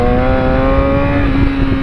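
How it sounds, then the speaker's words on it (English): A motorcycle engine held at high revs, around 8,000 RPM, produces a loud, steady, buzzing whine close by, sustained without letting off. "These RPMs are beautiful"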